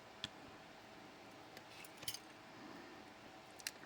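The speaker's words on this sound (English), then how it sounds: "Snip the wire, not your fingers." Wire cutters snipping beading wire while making earrings, a few faint, sharp clicks scattered across a quiet room, the clearest pair close together near the middle.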